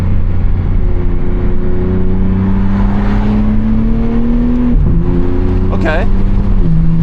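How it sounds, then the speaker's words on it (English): A tuned BMW G80 M3 builds RPM under acceleration, its engine tone climbing steadily before a sharp ignition-cut shift, heard loudly from the cabin as a voice speaks over it. "I'm gonna build RPM"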